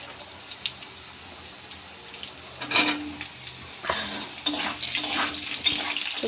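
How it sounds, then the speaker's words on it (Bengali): Raw papaya pieces tipped into a pan of fried five-spice seasoning with mustard and ginger paste for milky shukto, then stirred: soft scattered clatter and scraping, busier and louder in the second half, with faint sizzling underneath. "চলো এবার পেঁপেগুলো দিয়ে দিই।"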